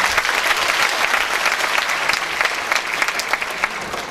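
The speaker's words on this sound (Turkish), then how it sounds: "için güçlü bir alkış istiyorum lütfen." Sustained audience applause at a community gathering of people from Gökçedoğan village, Çankırı, held in Pendik, Ataşehir, Turkey, honoring the mayor; dense, steady clapping from a large crowd throughout, with no talk.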